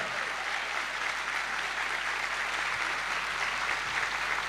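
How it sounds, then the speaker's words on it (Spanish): A Spanish-speaking Catholic congregation applauds steadily at a mass, dense even clapping across the hall with a faint low hum underneath and no speech. "predicando hoy en tierra del Papa Francisco, un aplauso para el Papa"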